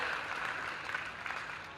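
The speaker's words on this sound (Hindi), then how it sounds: "थोड़ी जोरदार तालियां बजाइए क्योंकि हमें आपकी तालियों से ऊर्जा मिलती है" A crowd at a Hindi poetry recital applauds continuously, a soft, even wash of clapping heard from some distance.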